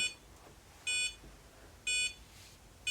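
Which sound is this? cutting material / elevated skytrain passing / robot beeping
robot beeping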